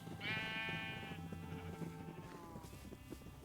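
Sheep bleating in the Minecraft video game, a long, wavering game-sound bleat up front followed by a second, lower bleat, with faint background game noise and no talking.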